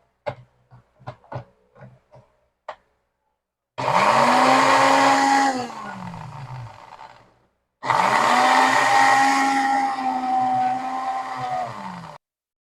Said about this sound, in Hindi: अब हम अपनी चटनी को ग्राइंड कर लेंगे।